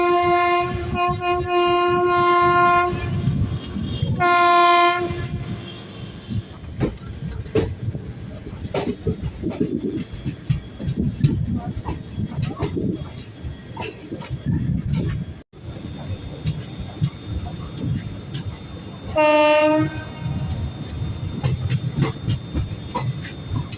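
Intercity Express 14209 with LHB coaches departing Dariyapur Junction on the Prayagraj–Lucknow single line, heard from on board: a steady rumble of wheels on track, with loud two-tone horn blasts sounding three times, near the start and later.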